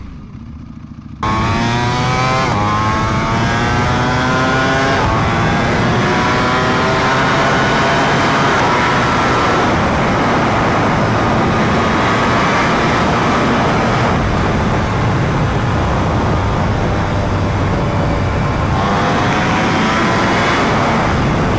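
Ducati V4 Superleggera engine at full throttle on a track, screaming loud and close as it climbs through revs in a high gear, long continuous wail with wind roar and gradual pitch rise, briefly easing near the end.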